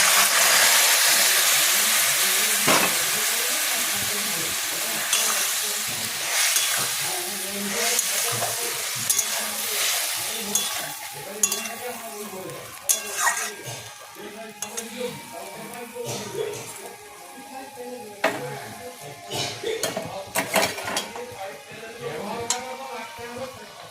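Boiled vegetables for shukto hit a pan of fried ginger with a loud sizzle that gradually settles, followed by repeated scraping and stirring with a utensil and occasional clinks against the pan.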